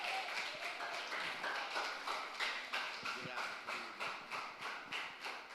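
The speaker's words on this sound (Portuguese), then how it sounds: "dá uma salva de palmas para o Senhor" A church congregation at a morning service claps together in a steady rhythmic pattern, faint and somewhat distant, continuing evenly throughout.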